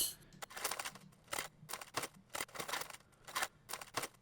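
A paper bag noise sample in the Serum synthesizer crinkles and rustles in short, irregular bursts, fairly quiet and close, with small gaps of near silence between the crackly crumples.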